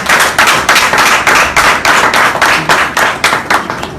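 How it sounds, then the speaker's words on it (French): Audience applauding at a meeting of a patriotic front against war in Niger, held in Cotonou, with loud, close, rhythmic clapping in steady unison beats over a few seconds, no talk. "je vous demande déjà de tous vous applaudir parce que c'est très important pour vous"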